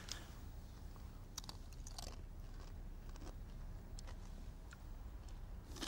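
Someone bites into crunchy baked food and chews, giving close, crisp crunches and scattered crackles over a steady low background, with no talk.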